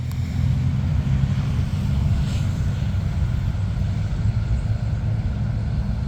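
A tractor drives through a corn field with a steady, continuous engine rumble that stays close and even throughout, and no voices are heard.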